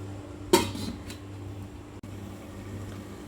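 A pot of manathakkali greens kootu with dal and coconut gets a single sharp metallic clank from a spoon or lid, followed by a softer click a moment later, over a quiet steady kitchen hum.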